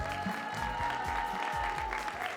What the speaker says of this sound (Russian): Нашим дорогим наставникам аплодисменты.